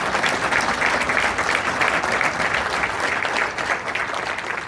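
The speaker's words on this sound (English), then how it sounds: "we would like to get a round of applause for Transworld." An audience at a haunted-house industry awards event breaks into sustained applause, a thick, steady roar of many hands clapping together, loud and even throughout.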